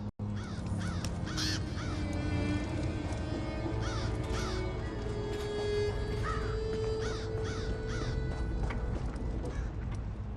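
Crows caw repeatedly in The Elder Scrolls Online, harsh rasping calls in short bursts spaced a second or two apart, loud and near over a continuous game ambience with faint clip-clop-like movement.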